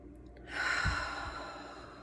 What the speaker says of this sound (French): on inspire par le nez et on expire par la bouche en émettant un son